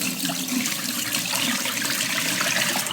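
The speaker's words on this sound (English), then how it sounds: "I'm just gonna pour the water off" Water is poured off from an Instant Pot with a rack inside, a steady close gush and splash into a sink lasting a few seconds with no voices.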